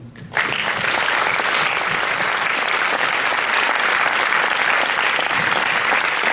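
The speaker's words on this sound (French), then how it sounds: "je les applaudis avec vous" A cinema audience at the Max Linder Panorama in Paris applauds the film's partners, starting abruptly and holding as a dense, steady, loud wash of clapping from many hands.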